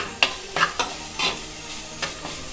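Chopped ginger stirred in a hot pan for a Kerala-style squid stir fry, with several scraping strokes of the spoon over a steady sizzle, close and clear, no talking.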